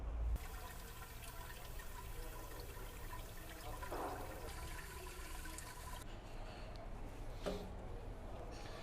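Steady rush of running water from a tap while whiting fish are washed in a kitchen, continuous and close, with a few faint clinks and shifts partway through and no talking.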